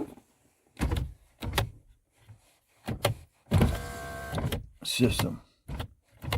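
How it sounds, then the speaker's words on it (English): Power windows and door locks working inside a 2008 Jeep Compass: several short motor whirs and locking thunks close by, separated by gaps, with a voice speaking between them. "now I have door locking, window up and down."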